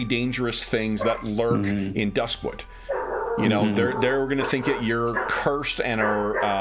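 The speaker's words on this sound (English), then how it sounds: "No, that's my neighbor's dog." A neighbor's dog barks and howls in the background, yips and drawn-out cries running beneath steady close talking throughout.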